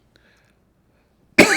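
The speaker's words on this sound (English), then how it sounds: "Sorry about the coughing." A single sharp, loud cough bursts out at the very end after near silence, close to the microphone.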